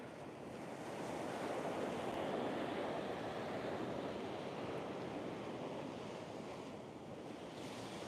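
Ocean waves wash steadily onto a beach in a continuous broad roar with some wind noise across the microphone, and no voices.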